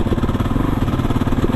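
A Husqvarna 701 supermoto's big single-cylinder engine while riding in sixth gear, a loud, low, pulsing thump with a rapid regular beat and vibration-heavy rumble, no talking.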